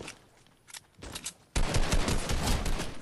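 Rapid video game gunfire bursts loud and close, with scattered shots first and then a dense, sustained automatic volley filling the second half.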